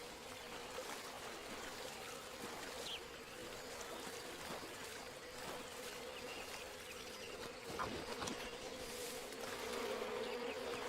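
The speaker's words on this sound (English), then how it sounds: "Oh, I can hear the bees." A low, steady drone of buzzing bees in the video game Metal Gear Solid Delta: Snake Eater fills the scene, with faint trickling and occasional small clicks in the background.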